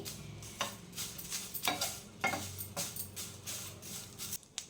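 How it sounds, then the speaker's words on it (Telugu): Curry leaves frying slowly in a pan on a low flame, a soft steady sizzle broken by repeated scraping stirs of a spoon, close and quiet with no talk. "నెమ్మదిగా వేపుకోవాలి సిమ్లో పెట్టుకుని"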